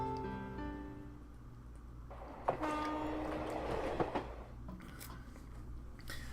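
Inside a train in the visual novel Rain Marginal, a low steady rumble of the carriage with a sustained tonal hum, a few soft clacks and a faint horn-like tone, quiet and without talk.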